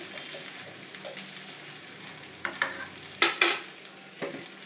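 Ghee sizzles in a pan while cooking a jackfruit curry, a soft steady crackle with scattered spatters and a few louder bursts near the end as it is stirred, with no talk.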